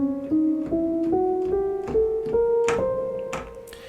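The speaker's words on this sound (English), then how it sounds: "since it's the half-tone whole tone scale" Ascending run in the half-tone whole-tone scale, roughly nine crisp plucked notes rising steadily at an even pace, each note attacked cleanly and decaying quickly, with no voices.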